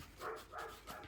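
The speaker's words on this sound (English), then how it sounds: "And that's my dog." A pet dog indoors gives three quiet, evenly spaced woofs or whimpering barks, faint and fairly close, with no talking.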